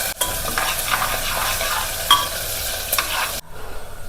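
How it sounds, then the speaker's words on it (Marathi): Onion and green chili frying in a pan with bay leaves while being stirred, with a steady loud sizzle and scraping stirs throughout and a brief pause near the end. "टाकायचा सगळा कांदा यात मिरची मिरची टाकल्यानंतर थोडंसं हलवून घ्यायचं"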